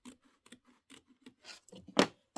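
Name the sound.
scissors trimming fabric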